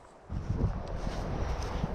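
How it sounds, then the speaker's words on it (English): Wind buffets the microphone outdoors, a low rumbling roar that starts abruptly and keeps gusting unevenly. "it's really windy out here"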